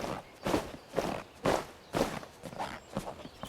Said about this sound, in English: this one really feels like a rubber or like a leather, more of a squeaky like leather.